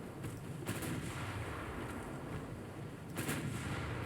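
Naval guns fire in the warship battle game Ultimate Admiral: Dreadnoughts, with two muffled booms about three seconds apart over a steady low rumble of sea and engines.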